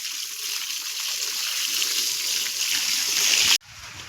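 Water is poured over a young female buffalo in a hot village yard, making a steady, close splashing rush that stops abruptly near the end.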